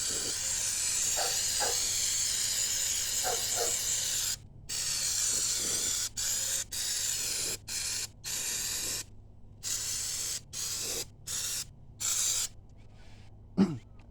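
Cleaner sprays from a bottle onto a 700R4 transmission pan of a 1988 GMC 5.7, hissing in a long continuous burst, then in short repeated sprays separated by brief pauses.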